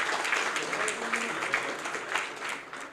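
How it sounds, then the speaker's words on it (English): An audience at a youth forum panel discussion of lawyers claps in steady, moderately distant applause that carries on throughout without any speech. "Ladies and gentlemen, a round of applause for Honorable Sajith Premadasa, please."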